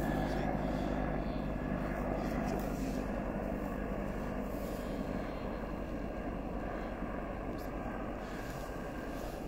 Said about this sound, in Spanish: Ahí va el helicóptero arriba